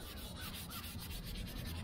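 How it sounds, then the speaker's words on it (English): A cloth rubs stain by hand onto a grab bar, working it into scratches and crevices with a steady, soft, continuous scrubbing that stays close and faint, with no voices. "I've decided to rub this on,"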